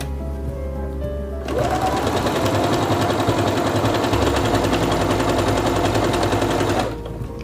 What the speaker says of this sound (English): And then I'm going to stitch again.